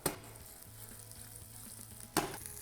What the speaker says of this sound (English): we're going to stir fry the onions and then take them out